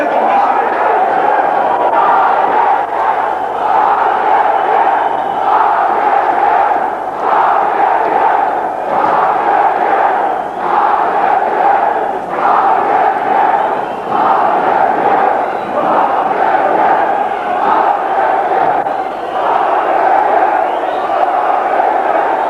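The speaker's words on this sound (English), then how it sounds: "the demonstrators have marched through the gate and up to the building with little resistance" Large crowd of demonstrators in South Africa marching up to a building, a steady, loud roar of massed voices with rising and falling shouts throughout.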